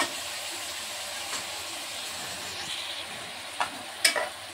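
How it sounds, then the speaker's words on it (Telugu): Chicken curry cooking in a pan sizzles steadily at moderate volume after water is added. A few sharp clinks of stirring or utensils break through near the end. "కావాల్సిన నీళ్ళు పెడతాము."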